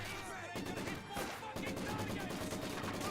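Gunfire from a Company of Heroes 2 battle, a fairly quiet stream of shots and bursts with a couple of sharper cracks over a continuous low battlefield rumble.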